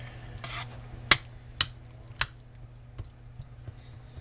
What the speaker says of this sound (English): And just smush it up. Mix it up. Some of that juice in there.